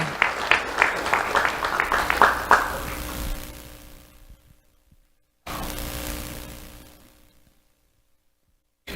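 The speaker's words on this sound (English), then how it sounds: "Let's have a round of applause for Landon Rollerson." Applause from an awards ceremony audience fades out over a few seconds, then a brief second burst of clapping rises and dies away again, ending in near silence.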